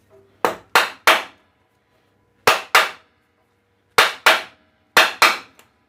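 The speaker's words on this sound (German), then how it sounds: "Dann nehme ich also dann gleich mal wieder dieses Schlagwerkzeug." A striking tool hammers loose a table insert on an Altendorf saw, with sharp, loud metallic strikes in clusters of two and three separated by short silences.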